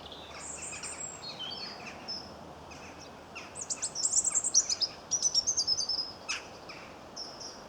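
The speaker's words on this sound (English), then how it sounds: "The sweet song is the robin, and the chacking noise is coming from the jackdaws." Outdoors, a robin's sweet high song sings over a faint ambient hush, joined by a run of sharp, repeated chacking calls from jackdaws.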